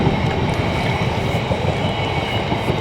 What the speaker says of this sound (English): This is a massively long train.